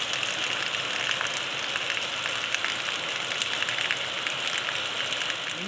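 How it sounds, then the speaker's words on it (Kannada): Steady rain pours down outdoors with no wind or thunder, a dense, even hiss of drops on surfaces that holds constant throughout, close and fairly loud with no voices. "ಮಳೆ ಮಾತ್ರ ಫುಲ್ ಬರತೈತಿ."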